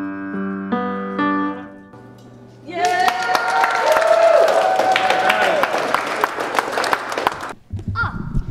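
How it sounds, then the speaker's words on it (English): A few soft piano-like tones give way to a burst of loud, sustained clapping from a room full of people at a church fall retreat, lasting several seconds before fading out abruptly. "Round of applause for that."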